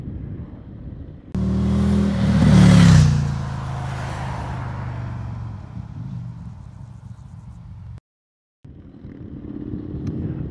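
An Indian FTR1200 S Race Replica motorcycle with its exhaust baffles removed revs hard in a loud burst, then settles into a raw, throaty idle with a brief cut before the engine note returns.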